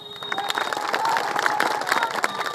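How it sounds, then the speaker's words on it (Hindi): Audience clapping at a political gathering, a steady patter of many hands filling the space, fairly close and continuous throughout. "तालियां दे दिए और फिर दे दीजिए ताकि लोग समझ सके"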